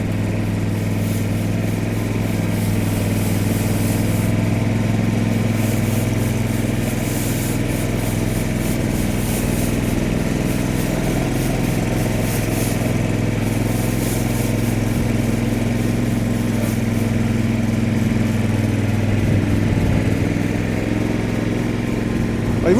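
An Altoz Switch mower fitted with a brush attachment runs at maximum speed, a steady loud engine drone with a low hum held constant throughout, with faint background noise.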